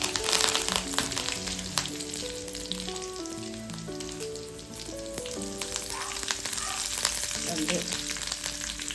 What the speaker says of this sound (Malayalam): കുറച്ച് കറിവേപ്പില ഇട്ട് കൊടുക്കണം.